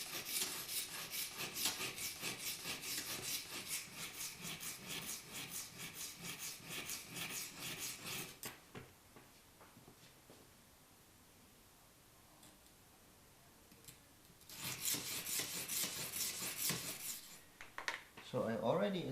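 Steel blade of an Esee Izula-II knife is drawn across the stone of an Edge Pro Apex sharpener in quick, regular rasping strokes, close and clear, with a quiet stretch in the middle before the strokes resume.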